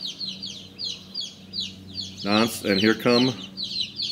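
Older hens clucking outside near newly arrived chicks, including ISA Brown and Americana breeds, soft repeated clucks throughout with a louder burst of clucking calls midway, and a brief word spoken.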